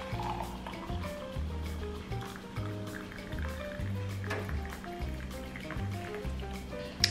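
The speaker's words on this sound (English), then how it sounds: "I'm going to be pouring hot boiled water." Hot boiled water is poured into a container of herbal powder for a soaking drink, a faint trickling and filling splash that runs on quietly with soft background tones.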